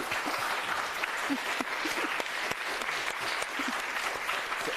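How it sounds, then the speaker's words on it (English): Audience applause after a lecture on the Balkans, even continuous clapping from a modest crowd in a hall, fairly quiet and steady throughout. "an applause to Maria"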